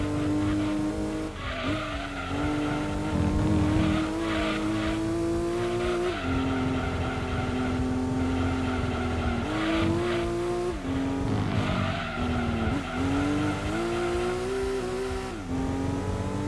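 Race car engine in Gran Turismo 2 on PS1, an 80's sports car cup event, droning loud and steady with rising and falling revs, repeated gear shifts and tire squeals through corners, no voices.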